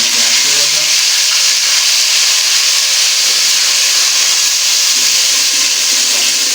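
Onions fry with whole spices in hot oil, making a loud, dense, continuous hiss close up that never lets up, with no one speaking.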